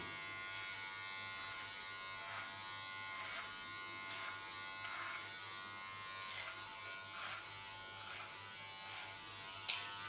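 Electric hair clippers cutting hair during a salon haircut, a steady faint motor buzz running throughout with small bursts as the blades pass through hair, no talking.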